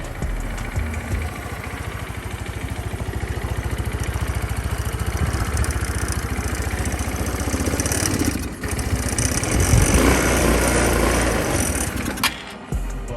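A 150cc scooter engine, left unused for ten years, runs steadily at idle with a continuous low throbbing beat close by, and its pitch rises slightly near the end.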